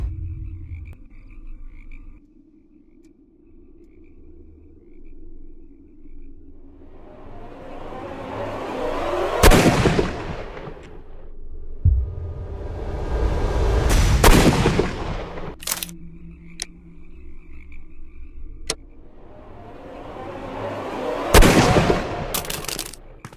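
Gunshots ring out in the Sherlock Holmes Crimes and Punishments video game, three loud, sharp blasts spaced several seconds apart over croaking ambient background noise.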